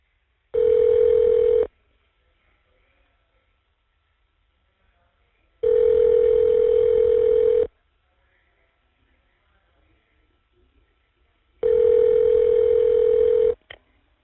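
On a prison phone line, three evenly spaced ringback tones sound as a call connects. Each lasts about a second or two, with long silent gaps between them.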